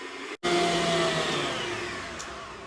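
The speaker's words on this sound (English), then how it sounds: "I'm going to be whipping this up for a little bit in my mixer so it's nice and soft" A stand mixer whips cream cheese with a steady whirring motor drone that starts after a brief pause and holds evenly at close range, with no talking.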